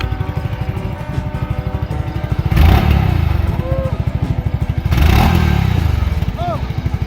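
A rough engine of a Segway Snarler AT6L X off-road vehicle idles with a fast, pulsing chug, then revs up loudly twice before dropping back to idle; a voice speaks briefly.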